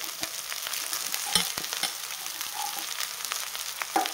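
Leftover rice being sautéed into spicy tempered rice, a steady close sizzle with scattered sharp clicks and scrapes of a spoon stirring in the pan, no voices.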